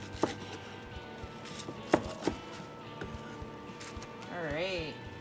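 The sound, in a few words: knife chopping crispy pork skin and jowl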